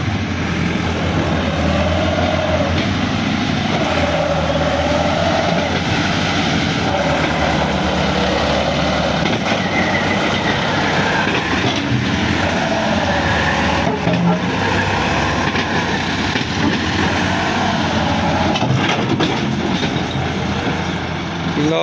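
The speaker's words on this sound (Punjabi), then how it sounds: "ਉਹ ਟਰੈਕਟਰ ਮੁੜ ਗਿਆ ਜੀ" Massey Ferguson 385 tractor hauling a trolley fully loaded with soil, turning on a washed-out patch, its engine a loud continuous close drone with slight rises and falls throughout, voices faintly mixed in.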